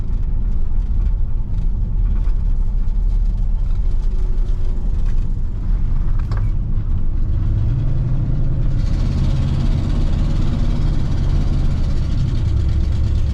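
A 1963 Pontiac Catalina engine runs loudly while the car drives, a dense low-frequency drone with mid-range mechanical texture that rises in pitch and brightness about two-thirds of the way through as it pulls harder.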